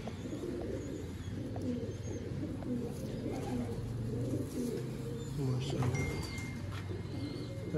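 Pigeons cooing on a rooftop, soft repeated low coos in a quiet outdoor setting, with a person talking faintly over them.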